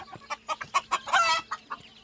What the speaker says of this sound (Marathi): ह्या गावरान कोंबड्या आहेत